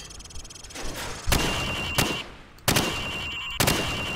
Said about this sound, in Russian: Теперь стреляй по мишеням от бедра.